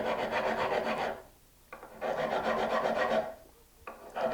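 Fine 1000-grit sandpaper rubbed over tall, wide Dunlop 6100 guitar frets, heard as close, steady rasping strokes in two long bursts with a short pause between them and the start of a third.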